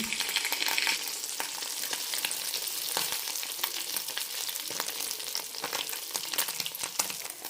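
Appam batter made with urad dal fries in hot oil over a medium flame, a continuous close crackling sizzle with frequent sharp pops throughout and no voices.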